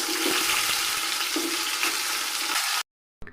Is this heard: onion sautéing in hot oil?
yes